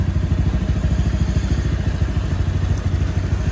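A Honda Vario 125 scooter engine fitted with a 58.5mm bore-up block kit runs steadily at idle, a close, continuous low throbbing with a busy mechanical clatter throughout.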